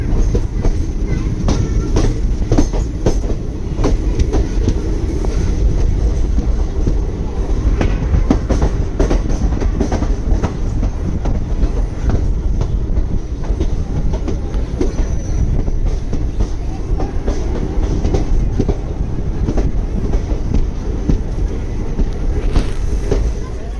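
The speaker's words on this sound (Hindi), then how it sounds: "हमारी ट्रेन का और मुंबई नांदेड़ तपोवन एक्सप्रेस का जो तो क्रॉसिंग लासूर स्टेशन पे हुआ है" A train rolls steadily past at Lasur station as the Mumbai–Nanded Tapovan Express crosses on an Aurangabad–Manmad line under electrification, loud and continuous rumble with clickety-clack wheel rhythm and occasional squeal throughout, no talk.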